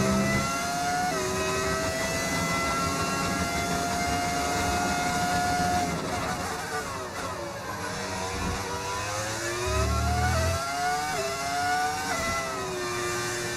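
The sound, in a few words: modded racing car engine sound in F1 25 video game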